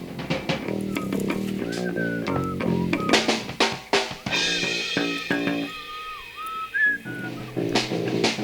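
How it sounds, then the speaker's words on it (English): A whistled melody carries the tune of a song, sliding pitch over a steady musical backing with drum hits. "here we come to the whistle, which is the reason for the title of the song"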